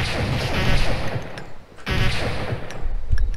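Gunfire in the video game Blood & Bacon: dense, rapid bursts of shots crackle close and loud, pausing briefly midway before the firing resumes just as heavily.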